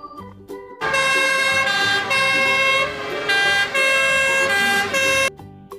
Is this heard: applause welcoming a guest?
no